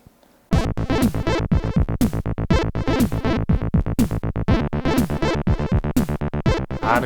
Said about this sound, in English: what you hear now is the sound coming out of that black AdLib